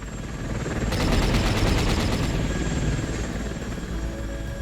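In the VR video game Worlds at War, a helicopter's rotor thrums loudly while its rapid automatic gunfire rattles for about a second and a half, then the engine drones on alone.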